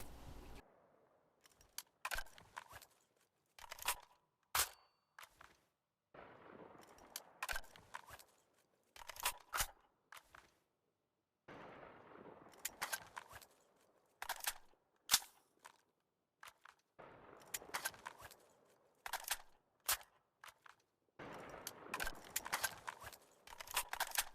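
Mk 18 CQBR and Honey Badger rifles being reloaded in the video game Insurgency Sandstorm: repeated sequences of crisp metallic clicks and clacks of magazines and bolts, separated by short pauses, close and clean with no talk.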